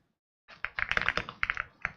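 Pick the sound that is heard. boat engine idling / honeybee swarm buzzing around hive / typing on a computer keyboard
typing on a computer keyboard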